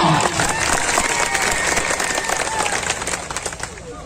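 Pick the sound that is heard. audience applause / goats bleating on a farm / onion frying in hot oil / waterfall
audience applause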